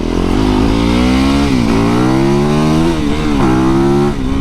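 A motorcycle engine revs loud and close under the rider's throttle, its pitch rising and falling in several surges over a constant roar.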